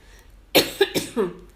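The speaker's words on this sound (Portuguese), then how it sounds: "de novo essa tosse" A short burst of three or four harsh coughs close to the microphone, following a brief quiet moment.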